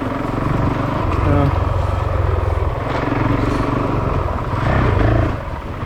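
Honda motorcycle engine lugging in second gear, a low throbbing pulse that swells and eases, heard close with someone talking over it.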